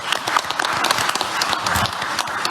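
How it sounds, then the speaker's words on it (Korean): Applause from a room of cabinet meeting attendees, a steady dense patter of clapping hands that stays close and even throughout the short stretch. "지금 박수를 칠까요?"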